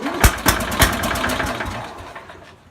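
A 1968 Sears Super 12 garden tractor engine sputters and catches after a hard start, opening with a few sharp irregular pops before settling into a steady, close, rough running drone that fades slightly toward the end.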